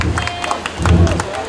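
Audience at a live performance by a singer bursts into clapping and cheering, a dense crowd roar with scattered claps swelling toward the end, voices mixed in.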